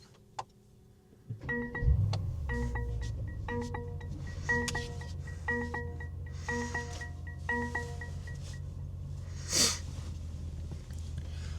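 A Mercedes-AMG car with suede-trimmed interior cranks and fires up from inside the cabin, settling into a steady low idle rumble while interior chimes tick rhythmically over it, with a brief louder blip near the end.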